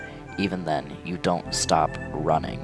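A cat meows a few times inside a horror video game, short plaintive cries mixed with game sounds while someone talks over them throughout.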